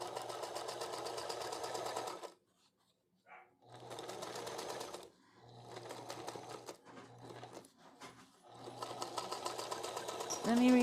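A sewing machine runs in bursts while stitching a quilt, its steady mechanical whir starting and stopping several times with short pauses, close and clear, with brief speech in between.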